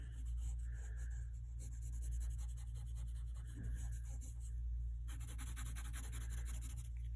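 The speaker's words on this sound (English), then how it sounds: "we're going to go back over the bottom part with our pencil and make it really dark down here" Pencil shading dark on paper, going back over the bottom of a drawn 3D form: quiet, close, steady scratchy strokes in rhythmic back-and-forth bursts, with a few brief pauses between passes.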